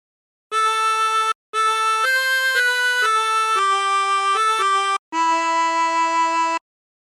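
Chromatic harmonica plays a phrase of Silent Night as a series of clean sustained notes in three breaths separated by short pauses, close and solo.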